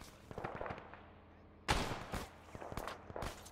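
Gunfire in the Arma mod FPARMA Frozen Front: a few scattered distant shots, then one loud close blast about halfway through, followed by more sporadic pops over a low rumble.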